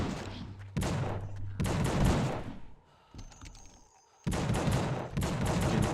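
Dual-wielded revolvers fire in the horror video game The Suffering: loud, dense volleys of rapid gunshots, broken by a brief quieter lull before a final sustained burst.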